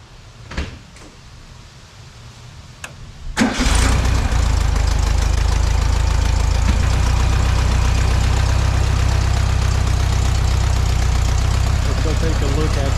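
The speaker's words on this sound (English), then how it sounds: "So let's go ahead and give it a try." A 1971 VW Super Beetle with a new electronic distributor and vacuum advance cranks with a couple of clunks, then catches and settles into a steady, loud, close idle.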